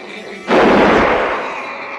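One loud gunshot rings out in the Evil Dead film as Ash shoots his possessed sister Cheryl. The sharp blast is followed by a long, fading tail.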